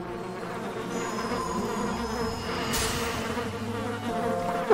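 A swarm of bees buzzes steadily in the video game Candle, a dense insect drone that holds throughout with a brief brighter swell partway through and no talking.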